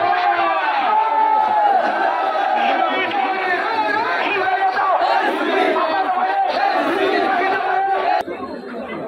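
A large rally crowd in Patuakhali chants slogans against extortionists during an NCP march, a dense roar of many voices shouting together that stays loud and close before dropping off abruptly at the end.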